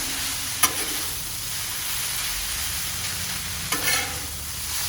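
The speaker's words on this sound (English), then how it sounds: "We're just going to take our spatula now and basically just heat these up some." Scallops sear on a hot Blackstone flat-top griddle with a constant close sizzle, while a metal spatula scrapes across the steel surface in two distinct strokes, the second longer and more drawn out.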